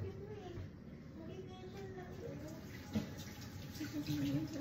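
Teriyaki sauce pours over chicken wings in a kitchen, a soft, steady liquid trickle and splash running under a faint, low-level background.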